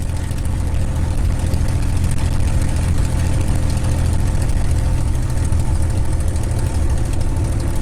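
The Merlin engine of a TF-51 Mustang, an almost brand new unit, warms up on the ground. It gives a loud, steady, throaty roar that holds constant and close throughout.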